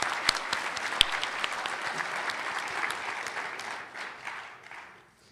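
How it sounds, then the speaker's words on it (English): An audience at an awards banquet applauds after a dance performance, with dense clapping and a few sharp claps standing out. The applause gradually fades over about five seconds. "give them another round of applause for their beautiful dancing"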